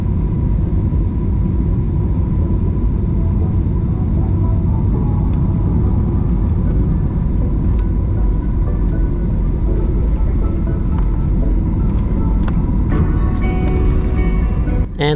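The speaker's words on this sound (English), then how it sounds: "And we are now on our final approach towards runway 16 left at Shanghai-Pudong International Airport." Cabin of a Philippine Airlines Airbus A321-200 on a bumpy final approach into Shanghai-Pudong: a loud, steady roar of engine and airflow rumble fills the whole stretch, with a few faint rattles near the end.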